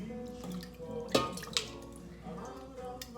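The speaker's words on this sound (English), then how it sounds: "And then I'll just go ahead and use the sieve and pour it through." Homemade chicken stock poured through a sieve gives soft, close watery splashing and trickling with a couple of sharper splashes, fairly quiet against a low background.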